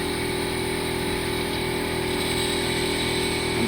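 An engine with constant-flow mechanical fuel injection turns over under the starter, a steady continuous mechanical whirr and drone holding at an even level throughout.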